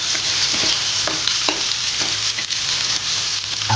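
Garlic and onion fry in hot oil until golden brown, giving a continuous close-up sizzle with occasional stirring scrapes and no speech.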